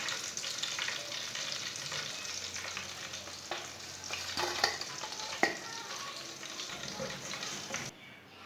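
Potatoes fry quietly in a pan after chicken has been removed. A low, even sizzle carries a few sharp stirring clinks and scrapes, and the sound drops off near the end.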